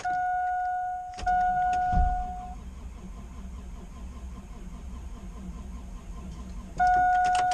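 A truck running on E85 tries to cold start at fifty below zero: warning chimes ring, then the starter cranks and grinds in a labored, continuous churn for several seconds before the chimes return.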